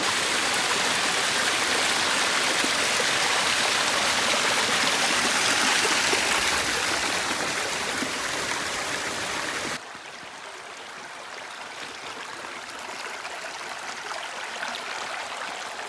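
Waterfall and stream on a forest trail in White Mountain National Forest, a loud steady rush of falling water that drops abruptly to a softer, more distant flow partway through, with no voices.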